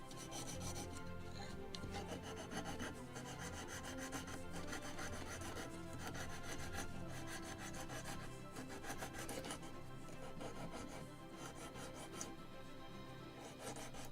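Steady rasping rub of a wooden yard part for a 1776 gunboat Philadelphia model ship kit being sanded on a sanding block, continuous strokes at close range with no talking.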